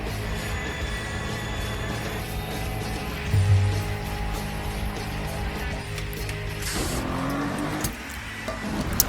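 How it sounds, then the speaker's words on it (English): A car drives and accelerates in a cartoon opening theme, with a steady engine roar mixed under music, a rising rev in the middle and a shift near the end. "A driving car."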